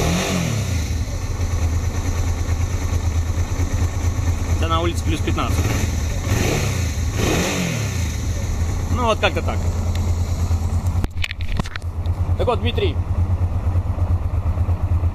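A 2002 Honda XL650V Transalp engine runs steadily at idle while still cold, rising briefly in a few short revs, while someone talks over it close by.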